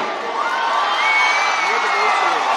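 A large crowd roars and whoops at a Kolkata stage show, a dense, loud, sustained swell of cheering with a voice carrying over it.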